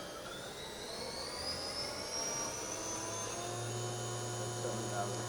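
A Bridgeport-Hardinge vertical machining center spindle spins up at high RPM, giving a steady whine with rising tonal lines over a low hum throughout.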